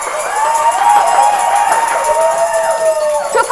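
Studio audience applause and cheering at a live Thai television-style broadcast, a steady wash of clapping and crowd noise sustained throughout, fairly loud and close.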